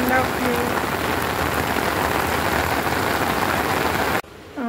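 Steady rain pours at a beach at Diveagar, a dense even hiss close by that runs unbroken for about four seconds before cutting off abruptly near the end, with no talk.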